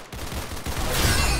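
Rapid, dense gunfire from the Roblox game Arsenal fills the clip, loud and continuous, building in intensity toward the end.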